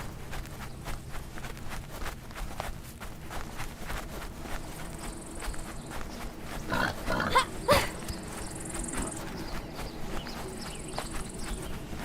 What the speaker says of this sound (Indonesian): Ada babi lagi.